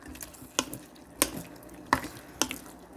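Tteokbokki rice cakes tossed and stirred through sauce in a pan, giving a few sharp wet clicks and scrapes spaced about half a second apart over a soft steady background.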